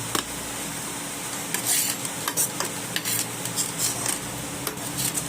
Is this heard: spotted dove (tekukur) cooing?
no